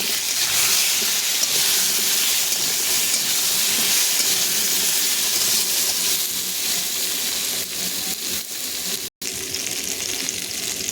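Vegetables frying in oil with turmeric and salt for a taro and salted fish curry, a steady loud sizzle and hiss throughout with no talking.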